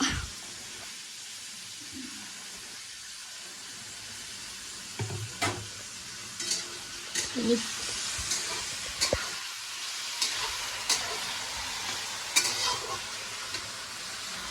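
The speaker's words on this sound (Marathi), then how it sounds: "आता असं त्याला फ्राय करून घ्यायचं मस्त बटाटे" Diced potatoes fry in oil for sabudana khichdi, a soft continuous sizzle with intermittent scraping and stirring clatter against the pan, close but fairly quiet.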